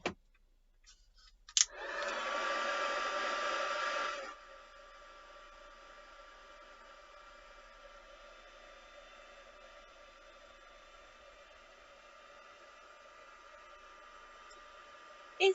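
A dryer blows on paint splatters, starting with a click and a loud hissing rush of air for about three seconds, then settling into a quieter steady whir that continues alone to the end.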